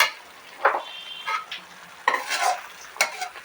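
A spoon scrapes and stirs a vegetable saagu tempering frying in oil, producing intermittent close bursts of sizzle and scraping between quieter gaps, with no voices.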